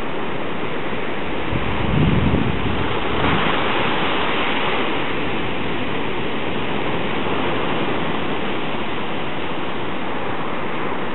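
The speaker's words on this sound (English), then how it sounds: "the tide's coming in" Surf rolling in on a North Coast New South Wales beach as the tide comes in, a steady broadband wash of breaking waves with a slight swell around the second and third seconds, mixed with wind noise and no voices.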